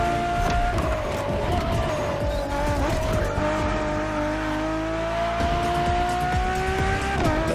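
A new Ferrari drives in The Crew Motorfest racing game, its engine holding a steady high drone with tire squeal and skidding layered over it, loud and continuous with music underneath.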